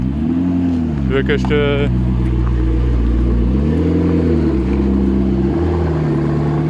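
A McLaren engine idles and revs with a steady low drone and gentle rises in pitch, heard close at a motorsport museum, with a person speaking briefly over it.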